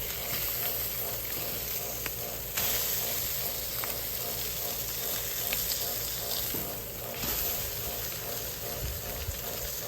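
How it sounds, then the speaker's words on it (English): Bacon sizzles on a Camp Chef griddle, a steady close hiss and crackle of hot grease that swells slightly partway through and continues without pause. "So we'll get the bacon grease going."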